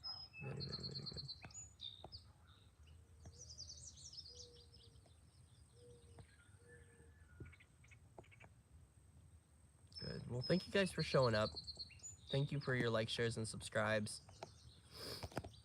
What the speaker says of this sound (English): The birds are really loud today in a beautiful way.